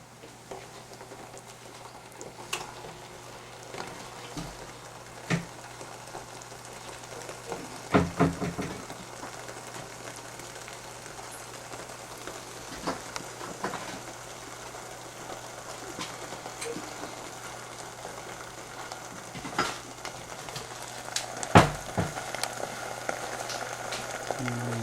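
Ginger and garlic fry in a hot pan with a steady, soft sizzle, and scattered small pops and crackles rise above it.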